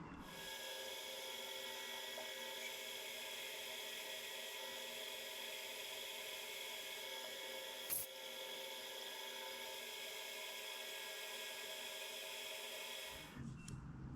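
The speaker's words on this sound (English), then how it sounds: "Seems to be drilling very nice." A drill with a long-series bit runs with a steady, even whine, grinding through metal for a long stretch before stopping near the end; a single small click midway.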